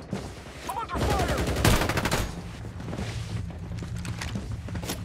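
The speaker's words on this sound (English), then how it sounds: "I'm under fire." Gunfire in the Farlight 84 video game, a dense burst of rapid automatic shots and impacts that peaks early, then settles into a steady mechanical rumble with scattered pops.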